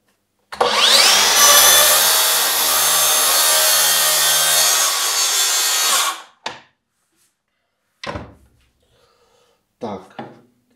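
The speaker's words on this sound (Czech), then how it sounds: "teď jsem tu pilu vlastně zapnul, roztočí se a ponořím ji teda na maximální hloubku a dojedu to." A Makita DSP600Z plunge saw spins up and plunges to full depth, cutting through wood in one loud, sustained whine of about six seconds, then stops; a few short bursts of handling or brief cuts follow after pauses.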